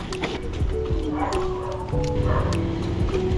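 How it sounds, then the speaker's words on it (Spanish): Several dogs bark and yip repeatedly, fairly close, with some whimpering, over a low rumbling background. "Hay perros."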